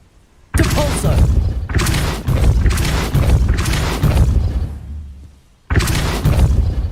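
A Depulso spell cast in the Hogwarts Legacy video game lands as a series of heavy booming blasts. Several loud bursts follow in quick succession, then a brief lull before another strike.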